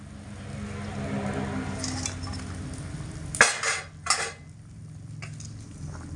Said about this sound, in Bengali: এবার আমি ভেজে রাখা মাছগুলোকে এই জলের মধ্যে দিয়ে দেব